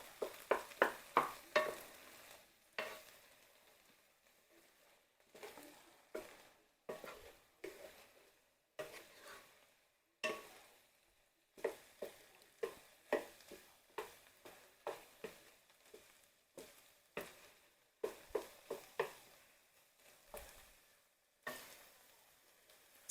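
Old fashioned turkey goulash cooks in a pan, soft sizzling under repeated bursts of a utensil scraping and stirring against the pan in quick clusters, close and fairly quiet, with no talking.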